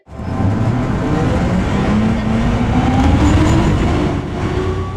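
A train in the Minecraft MTR mod pulls away with a loud, continuous rolling rumble and a motor whine that climbs steadily in pitch.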